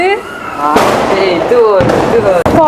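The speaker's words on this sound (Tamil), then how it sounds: "அடி எவ்வளோ ஃபயர் ஒர்க்ஸ் இந்த வருஷம்" Diwali fireworks explode loudly and close by in several sharp bursts with crackling, and people talk and shout throughout.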